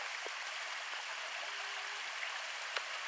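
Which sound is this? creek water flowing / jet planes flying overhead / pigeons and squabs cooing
creek water flowing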